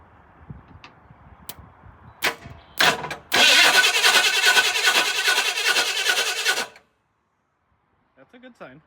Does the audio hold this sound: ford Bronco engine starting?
yes